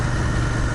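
A parked car's engine idles steadily, a continuous low rumble holding even and close with no voices over it.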